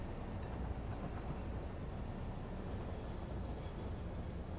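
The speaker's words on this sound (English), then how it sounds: "As long as you can hear me over the train" A train rumbles past in the video game Satisfactory, a steady, loud, broadband roar that holds evenly the whole time with no distinct clacks.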